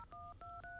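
Telephone keypad dialing: four crisp dual-tone beeps in quick succession, each steady and clear, heard alone with no talking.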